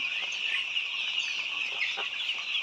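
White layer chickens clucking and chattering steadily nearby on a poultry farm, a dense flock of soft overlapping clucks with no talking.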